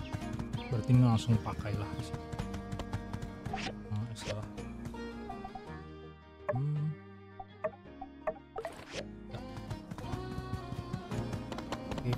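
Horse hooves clip-clop steadily in the game My Time at Sandrock, the light rhythmic taps mixed with game music and other effects while someone talks over them.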